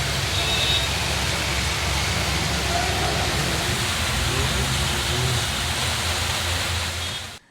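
Steady, dense roar of heavy rain driven by gusty winds during a storm, loud and unbroken, with no voices, cutting off abruptly at the end.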